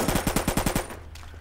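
Rapid automatic gunfire from the VR shooter Contractors: about eight close, loud shots in a steady rhythm that stop abruptly, leaving a brief fading echo.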